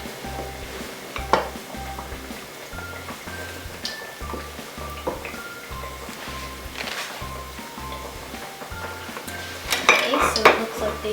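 Oreos deep-fry in hot grease for a carnival-style treat, with a steady soft sizzle under repeated metal clinks and scrapes of utensils against the pan as they are flipped.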